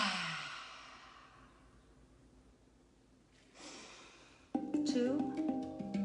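A person draws a deep breath in during a guided wealth and abundance meditation, a long airy inhale that fades out, followed by a brief rush of breath and then soft music entering.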